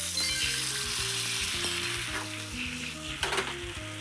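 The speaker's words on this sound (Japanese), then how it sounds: "ちょっと濃縮させて味付けていく。" Sauce and seasoning sizzle steadily in a hot pan as they reduce down to coat the food, with constant frying crackle, a few stirring scrapes and a brief clink near the end.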